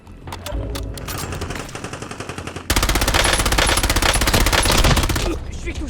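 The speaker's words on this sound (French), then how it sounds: "Je me fais tirer dessus." Automatic gunfire rattles in the Warzone video game: loose bursts at first, then a long, loud, continuous stream of rapid shots, close and dense, with a game voice faintly present.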